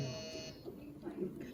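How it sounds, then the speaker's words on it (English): A quiz-show buzzer pressed by a competing team at a business quiz, a short electronic buzz at the start under a busy hall with people talking over it. "Team 5 is the first person to buzz."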